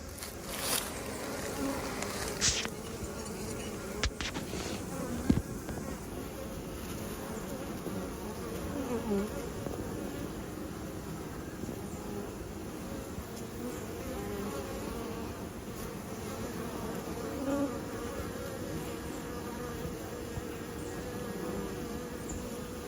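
Bees buzz steadily in a bee yard, a continuous, even drone of many insects that holds through the whole stretch, with a few faint knocks and clicks now and then.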